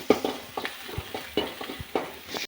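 Irregular crackling pops and sizzling from hot oil, sharp bursts scattered through a steady frying hiss.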